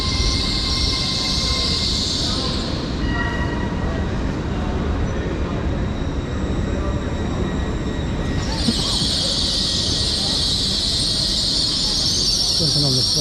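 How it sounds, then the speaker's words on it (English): A TransPennine Express train, unit 802219, runs along with a steady rumble heard from on board, punctuated by high-pitched whines at the start and again toward the end. "here's our train as we leave. It is 802219."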